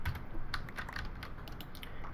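Close, soft clatter of fingers typing on a computer keyboard, a quick irregular run of keystrokes heard alone against a low background hiss.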